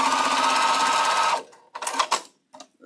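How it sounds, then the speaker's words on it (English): A sewing machine runs steadily and loudly, stitching quilt block pieces together with half-square triangles, then stops, followed by a few short handling and clicking sounds. "We are going to sew this together right the first time"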